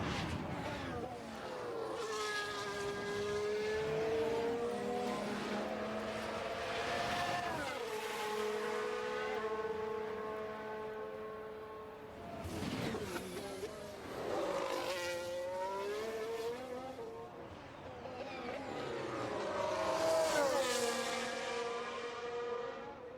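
F1 race cars warming tyres in F1 Manager 2023, engines rising and falling in pitch as several cars pass and rev, with commentary-style talking faintly underneath.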